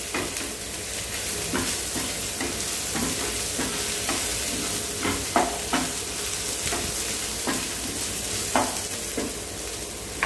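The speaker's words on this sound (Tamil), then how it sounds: "அதோடு சேர்ந்து நல்லா வதங்கி வரட்டும்." Crushed garlic sautés in a hot pan, giving a steady loud sizzle with repeated scraping stir strokes and occasional clinks of the utensil against the pan. No one speaks.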